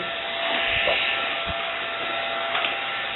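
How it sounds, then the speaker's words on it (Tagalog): A vacuum cleaner drones continuously nearby, its motor whine steady while a few soft bumps and knocks occur over it. "Magbabacuum muna tayo."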